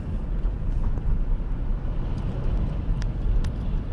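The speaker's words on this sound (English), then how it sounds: "5 cars coming out and I'm not even to the gate yet." Steady low rumble of cars passing on a road near the entrance gate of a state park, continuous and fairly close with some wind buffeting the microphone, no talking.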